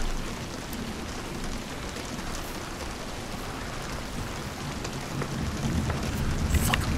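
Steady rain hisses through the whole stretch in the Hunt: Showdown game, with a low rumble underneath that swells slightly toward the end like distant thunder, no voices present.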